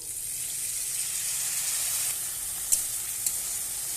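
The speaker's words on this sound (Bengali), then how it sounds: "এই যে এখানে দুধ নিয়েছি, দুধ দিয়ে দেবো একটু।" Potato and paneer masala sizzles steadily in a pan as milk goes in, a continuous frying hiss with two sharp little clicks near the end.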